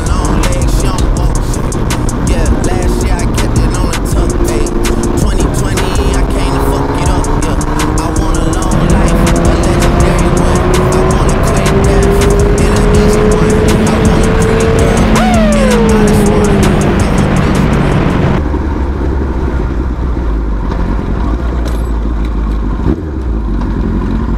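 Cars and other vehicles roaring past on a busy road near a Petron station in Marilao, loud and continuous, with rising and falling engine tones as they pass close by.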